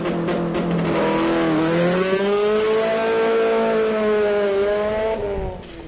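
A rally car engine roars loudly at launch on a special stage in Wairoa, its pitch climbing and holding as the wheels spin too much, then cutting off abruptly at the end.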